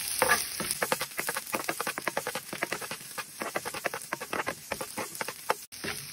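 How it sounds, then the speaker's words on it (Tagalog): Onion and garlic sautéing in oil in a hot pan, a crackling sizzle broken by rapid rhythmic stirring scrapes, close and busy, with no talking. "umpisahan natin sa paggisa ng sibuyas at bawang"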